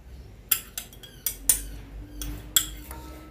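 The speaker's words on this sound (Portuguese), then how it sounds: "Agora, nós vamos mexer bem isso aqui para poder dissolver todo o amido de milho" A spoon clinks against a saucepan while stirring condensed milk and cornstarch, giving sharp metallic taps at irregular intervals over a quiet background.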